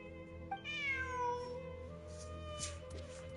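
A cat in the video game Genshin Impact gives one clear, drawn-out meow that falls in pitch, followed by softer trailing sounds over quiet game ambience.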